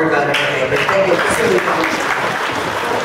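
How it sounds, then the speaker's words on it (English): An audience applauds after a personal testimony, a steady, dense clapping that carries at full strength from start to finish with no voices over it. "once again, a round of applause to Dr. Jojo Lesterio Jr."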